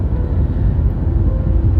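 Steady low rumble of a car cabin while driving, continuous road and engine noise filling the low end throughout with no voices.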